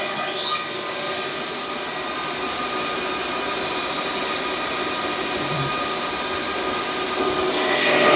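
A cryptocurrency mining machine drawing about 2,400 watts runs with a constant loud fan roar and broadband whoosh, steady throughout and building slightly at the end, with no talk.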